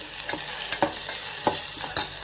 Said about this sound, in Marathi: थोडीशी भाजी परतून घेऊया